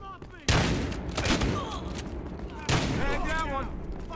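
Two heavy shotgun blasts in the Battlefield Hardline multiplayer beta boom about two seconds apart, each followed by a ringing, crackling tail, with faint voices and battle noise around them.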